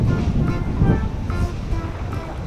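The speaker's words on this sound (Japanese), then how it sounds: "フェリーめっちゃ揺れてるじゃん。" Steady wash of sea waves and wind buffeting around a rocking ferry at sea off Battery Park, New York, a broad continuous rumble with no clear talk.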